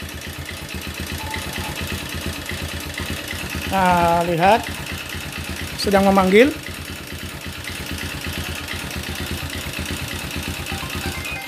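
An engine idles with a steady low chug as a person speaks, and two short electronic tone bursts sound partway through.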